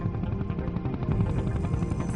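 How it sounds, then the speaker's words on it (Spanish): A helicopter flies near islands off northern Sumatra, its rotor chop throbbing in a dense, continuous low roar with steady blade pulses, close and loud throughout. "Sea alquila un helicóptero y vuela hacia el norte de dichas islas"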